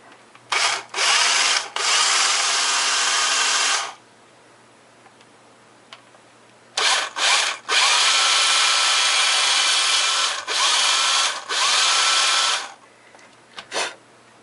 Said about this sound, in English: I'm just drilling it out, just clearing the hole a little bit.